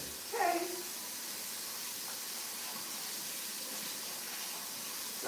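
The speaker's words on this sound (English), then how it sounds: "No need to get another pot. Looks clear, but I'm gonna wash it." A pot being washed under a running kitchen tap makes a steady, soft hiss of flowing water, with a brief clank of the pot near the start.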